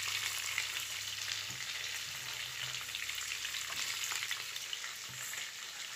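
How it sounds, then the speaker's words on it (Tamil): Onions sizzle in a kadai for Tamil mutton kulambu after the tempering, a steady close hiss of hot oil that runs the whole time with faint low stirring scrapes underneath. "இப்போ நம்ம வந்து கடாயில் ஆனியன் ஆட் பண்ணுறோம்."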